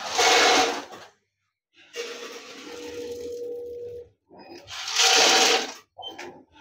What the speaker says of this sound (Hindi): आप देख सकते हैं ऑटोमेटिक वजन हो रहा है, पैक हो रहा है।